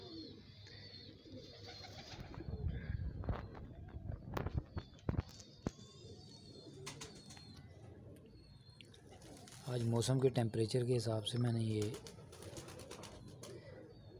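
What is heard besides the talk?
pigeons cooing while eating biryani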